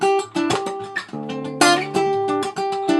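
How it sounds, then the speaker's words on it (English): Acoustic guitar playing with percussive flick-slap strums; sharp, close attacks in a quick rhythm over ringing chords, with no talking. "there's a definite flick slap in there. You'll hear the percussiveness of it."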